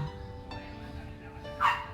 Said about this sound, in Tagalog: Sensya na po kayo sa aking aso, si Tilly.